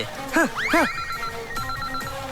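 A telephone rings in a movie scene, with two short warbling bell bursts up close followed by a fainter lingering ring.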